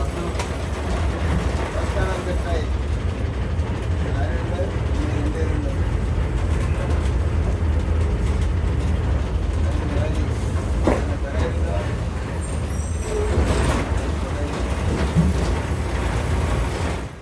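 TNSTC Sabarimala special bus from Nagercoil to Pamba pulls into the Pathanamthitta bus stand: steady low engine rumble with clatter and background commotion, voices speaking over the top throughout.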